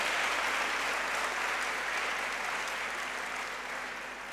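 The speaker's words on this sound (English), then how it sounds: "Let's give them another round of applause." Audience applause at a university language department's 60th anniversary launch, a steady dense wash of clapping that holds throughout and tapers slightly toward the end, with no voices over it.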